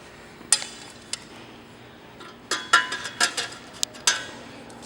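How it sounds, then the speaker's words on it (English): A metal plate screwed down onto a LiFePO4 battery rack, heard as a scattered series of sharp metallic clinks and taps, close and fairly loud, with short quiet gaps between clusters of hits. "you can start screwing the plate down to the rack"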